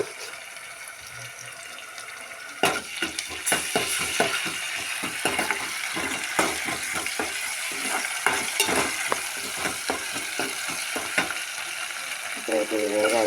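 Ginger paste frying in a pan for a ladies finger curry: a steady sizzle runs throughout, punctuated by repeated sharp scraping and stirring strokes against the pan.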